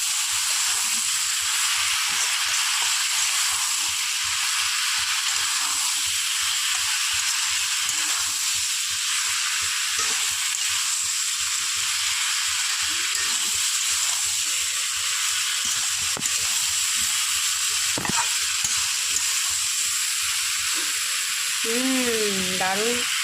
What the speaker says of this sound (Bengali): দিয়ে দিচ্ছি হলুদ গুঁড়ো, ভালো করে এটাকে নাড়াবো।